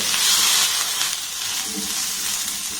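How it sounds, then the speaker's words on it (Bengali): Cauliflower pieces frying in a pan with garlic and ginger give off a steady hiss and sizzle, with light stirring sounds and a few soft clinks near the end. "ফুলকপি আর বিনসটাকে একটু নাড়াচাড়া করে ভেজে নেব"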